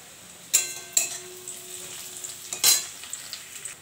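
Onion and garlic sizzle in a frying pan, a steady hiss broken by a few sharp bursts as the pieces hit the hot oil, with light stirring and no voices.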